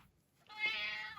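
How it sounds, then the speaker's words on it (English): Harry, a pet cat, lets out one drawn-out meow up close, clear and fairly loud over near silence. "Here's my cat. Hello, Harry."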